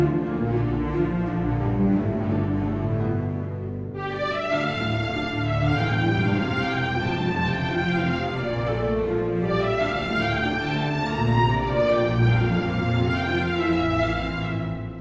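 Low bowed double basses play a steady rhythmic figure, doubled an octave up by harp, joined partway through by brighter sustained instruments swelling above, a full orchestral texture with no talking.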